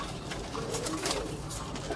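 Breeder pigeons coo from a rooftop loft at close range, a soft steady warbling with faint background noise.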